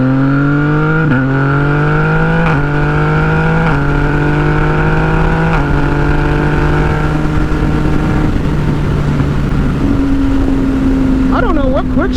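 A tuned 2017 Yamaha FZ-09 motorcycle with baffle in, ridden on the road, its engine droning loud and steady, pitch stepping up through several quick-shifted gears with brief dips between shifts.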